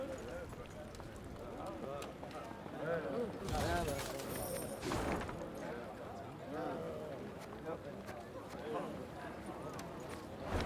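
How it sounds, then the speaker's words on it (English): Horse hooves gallop in Thronebreaker: The Witcher Tales, a steady run of clopping hoofbeats that swells for a few seconds in the middle, heard under a voice and other game sound. "The sound of approaching hoofbeats made Meave turn to see Reynard spurring on h"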